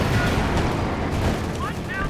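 Gunfire and heavy shell blasts from the Company of Heroes 2 game form a continuous low rumble of booms, with faint shot chirps near the end.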